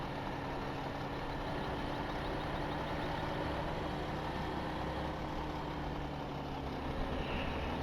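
Steady low drone of an external generator on a truck in Farming Simulator 2015, a continuous hum with engine tones running evenly throughout, loud and unbroken, with no talking.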